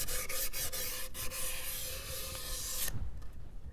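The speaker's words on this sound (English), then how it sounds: "So you're just going to give it a little sand, just like that." A wooden tray is hand-sanded in quick, close rasping strokes that go on steadily for about three seconds and then stop, with no talking.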